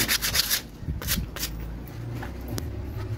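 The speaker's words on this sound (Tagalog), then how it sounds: "Yung kabila naman nililiha ni Idol Piano." A metal part of a cement mixer being converted into a chips mixer is sanded by hand, with rough rhythmic rubbing strokes in close bursts, the strongest at the start and then a softer continuous scraping.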